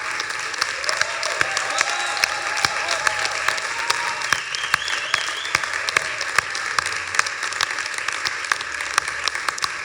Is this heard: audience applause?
yes